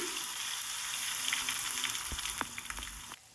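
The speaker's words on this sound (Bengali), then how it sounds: "এবার একটু নেড়ে চেড়ে ভেজে নেব" Tomatoes with salt frying in a pan, a loud continuous sizzle with several quick scraping stirs near the end, no voices.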